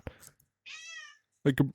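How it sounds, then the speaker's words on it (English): A house cat lets out a single drawn-out meow in the middle, with short bursts of human voice before and after it. "That's my cat."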